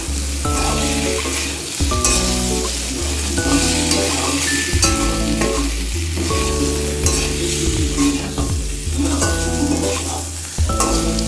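Potato and pumpkin curry with freshly added coriander powder is stirred in a pan, giving a steady sizzling fry and soft scraping strokes throughout, with tonal background music running underneath.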